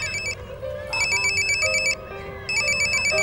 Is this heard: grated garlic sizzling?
no